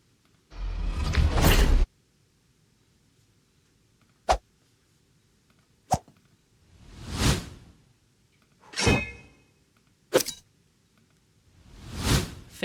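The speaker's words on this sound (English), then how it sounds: "let's find the swoosh for the initial intro here" Several swoosh sound effects auditioned one after another for an animated 3D text intro, each a short whooshing sweep separated by brief silences, with a longer dense burst at the start and a few sharp clicks between.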